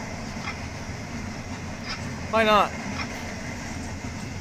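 A Union Pacific freight train passes through St. Elmo, Illinois, its steady low rumble running throughout, with a brief tonal swell just past the midpoint while people talk nearby.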